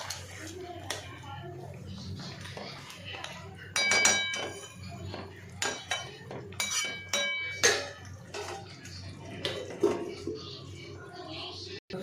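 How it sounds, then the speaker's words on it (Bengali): Chicken curry is stirred in a pot, giving metallic clinks and scrapes of a utensil against the pan, with a sharper clank near the middle as a lid goes on and someone talking throughout. "আবার একটু নেড়ে নেব, নেড়ে ঢাকা দিয়ে দেবো।"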